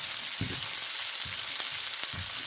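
Southern skillet potatoes with onion fry and brown in a skillet, giving a continuous hissing sizzle with a few soft low thumps of stirring, close and steady with no talking.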